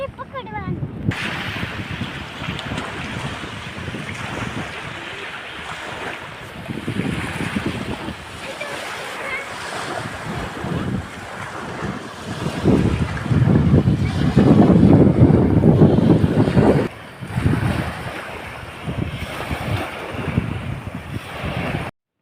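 Sea waves and strong wind sweep across a fishing harbour at Sartanpar port crowded with boats, a continuous loud roar that swells and gusts against the microphone.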